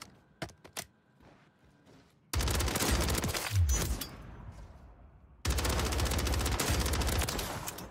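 Rapid automatic gunfire from a Call of Duty Warzone match on Rebirth Island, coming in two loud sustained bursts after a quieter stretch of scattered shots, with heavy low booms underneath.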